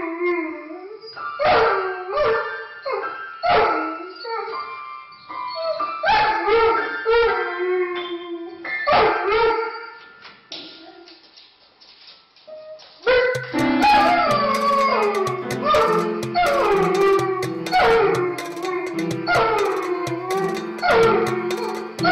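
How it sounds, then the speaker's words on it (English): Dog howling and yipping in a piano store, its long wavering howls rising and falling in pitched phrases, first alone in bursts with pauses, then over a dense, loud musical backing in the second half. "You are going to hear a recording of a dog in a piano store. It's playing and singing."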